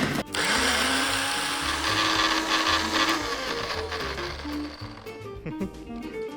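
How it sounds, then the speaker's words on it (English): A blender whirs steadily as it mixes cooked rice with salt, sugar and vinegar, a loud continuous motor drone with churning texture that slows and falters near the end. "In you go to the blender"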